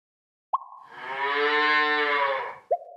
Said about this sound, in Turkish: Bu sesi inek çıkarır.